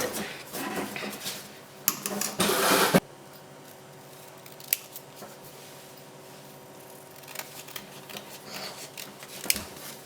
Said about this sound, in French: Je prends mes ciseaux pour pouvoir découper chaque mot.